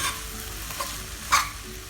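Rice being sautéed in oil for peas pulao, a short close sizzle with a couple of sharp spoon scrapes against the pan.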